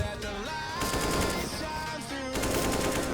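Rapid AK-47 automatic fire in a Counter-Strike aim_deathmatch round rattles in dense bursts, loud and close, alongside game music and effects.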